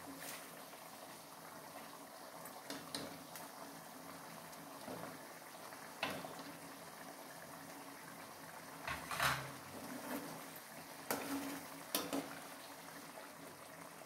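Egg masala curry gravy is boiling in a pot, bubbling quietly with soft irregular pops and gurgles. A few louder bursts and light clinks stand out against a faint, steady background.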